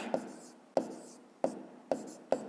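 A pencil writes the answer to a fifth-grade math exercise, leaving five sharp, evenly spaced taps as strokes land on paper, each trailing into a soft scratch, close and quiet, with no talking.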